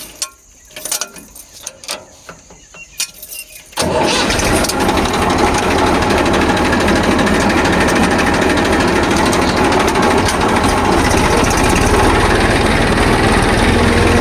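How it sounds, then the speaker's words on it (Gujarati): A tractor engine starts after a few seconds of quiet, sparse sounds and settles into a loud, continuous mechanical clatter and rumble that holds steadily to the end. "હવે આપણે ટ્રેક્ટર ચાલુ કરી દઈશું"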